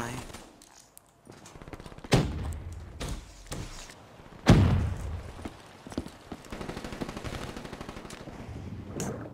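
Gunfire in the shooter game Black Ops 3 multiplayer: loud sharp shots at about two and four and a half seconds, then smaller repeated bursts, mixed with game noise and a voice talking over it.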